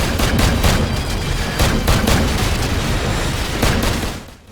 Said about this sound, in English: Your environment in this particular case is dominated by this high caliber weapon that you are firing.